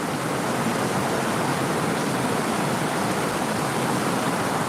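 Steady broadband rushing of a creek flowing through a Middle Tennessee hiking area, a constant close wash of water with no breaks and no voices.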